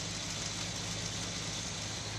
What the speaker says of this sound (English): listen to the engine right now